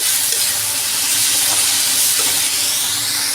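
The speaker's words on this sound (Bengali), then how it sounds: "চিংড়ির শুটকিগুলো দিয়ে দিছি। এখন ভাজা ভাজা করব।" Dried shrimp fry in mustard oil with onion and green chilli, a dense continuous hissing sizzle, loud and close throughout.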